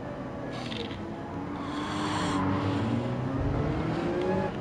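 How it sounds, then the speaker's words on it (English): A race car in a Gran Turismo online Manufacturers Cup race, its engine note rising and shifting as it draws alongside and pulls past, with a steady mix of other engines that gets slightly louder toward the end. "Go wide again to let this car through."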